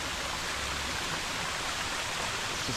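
A small trickle of water runs along the side of a rock and spills down at one spot by a frozen waterfall, a faint, steady hissing wash with no breaks.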